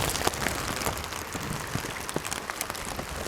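Steady rain patters on the water's surface during a fishing trip, a dense, even hiss dotted with individual droplet ticks, fairly close and with no voices over it.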